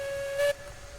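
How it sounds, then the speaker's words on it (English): A steam locomotive whistle quilled in the Railroads Online game: a steady, clear whistle tone that swells briefly louder and breathier in the middle, then settles back to a quieter sustained note, with no talking. "I'm getting really good with the whistle quilling in this game."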